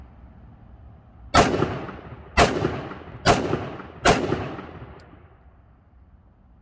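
Four sharp, loud gunshots from a Springfield XDM Elite 3.8-inch 10mm pistol fired at close range, spaced roughly a second apart, each with a brief echoing tail; one short spoken word comes just before them.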